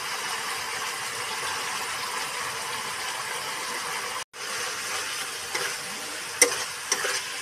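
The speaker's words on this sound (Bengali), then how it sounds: "একসঙ্গে নাড়তে হবে" Vegetables, soybean chunks and spices sizzle in oil in a pan while being stirred, a continuous frying hiss with a brief cut-out midway and a couple of sharp utensil knocks near the end.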